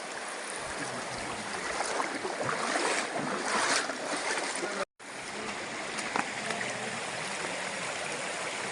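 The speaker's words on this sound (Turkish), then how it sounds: "Güzel bir dere var." Continuous rushing water of a stream in Serindere Canyon fills the scene, broadband and steady, with a short dropout midway and no talking.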